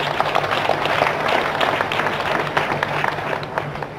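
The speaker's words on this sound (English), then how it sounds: "Let's clap for Jesus Christ." A church congregation claps together in sustained, dense applause with crowd murmur, loud and continuous across the whole stretch, with no talking on top.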